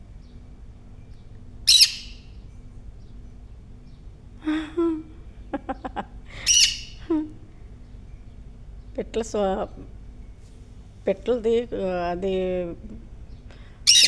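A pet bird lets out a few sharp, high squawking calls at scattered moments, near and fairly loud, while someone talks quietly in between in an otherwise quiet room.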